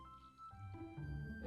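Water pours into a jar, a soft, faint trickle that rises steadily in pitch as the jar fills over about a second and a half.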